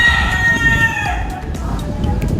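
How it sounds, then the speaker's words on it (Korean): A rooster crows in a commercial street area of Lapu-Lapu, Cebu, in the Philippines, one drawn-out, close, loud call that fades over a couple of seconds against a low background rumble. "이 닭소리도 좀 다르고"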